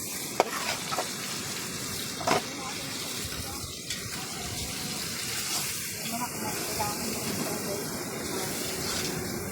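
Glutinous rice mixed with regular rice goes into a pot for arroz caldo, bringing continuous sizzling and stirring noise with a couple of sharp clacks near the start and faint voices in the background.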